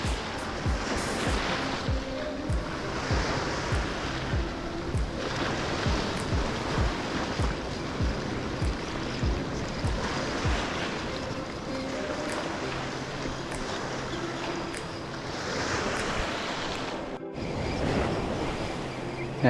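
Ocean surf washing steadily onto a beach during shore fishing with bread bait, a constant broad roar with wind noise on the microphone and no talk.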